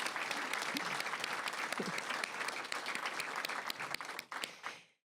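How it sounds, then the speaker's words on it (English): A live podcast taping audience applauds steadily and fairly densely for about five seconds, the clapping tapering into a few last claps before cutting off. "let's give them a round of applause"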